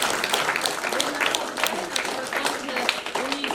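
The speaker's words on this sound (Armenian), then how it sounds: "ծափահարենք" Audience at a school event clapping, a dense patter of many hands close by that runs steadily throughout, with voices mixed in.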